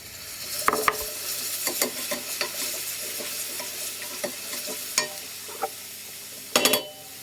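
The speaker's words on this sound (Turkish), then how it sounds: "Bir yemek kaşığı biber salçası ekliyorum." Pepper paste fries in a pan for a kidney bean dish, with a sizzle under repeated sharp scrapes and taps of a spoon against the pan and a louder clatter near the end. Nobody speaks.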